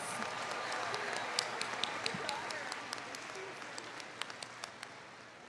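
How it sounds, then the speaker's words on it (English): Newly inducted university students clap for themselves at an induction ceremony, a fairly faint spread of crowd applause with a few sharper individual claps standing out, and some background chatter. "Give yourselves a round of applause."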